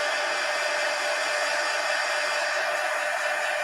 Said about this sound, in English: And now let me hit them with the heat gun.